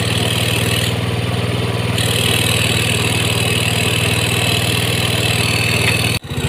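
A Yamaha GT 125 scooter engine idles in a repair workshop at about 2300 rpm, a steady loud mid-pitched hum with a constant rhythm, then cutting off abruptly near the end.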